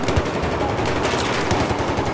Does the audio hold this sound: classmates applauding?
no